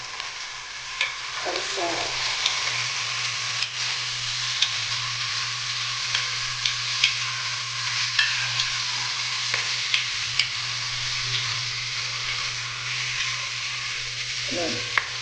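Chicken pieces frying in a pan for a creamy chicken macaroni dish with mushrooms, giving a steady close sizzle with occasional stirring scrapes and clinks, and brief talk now and then.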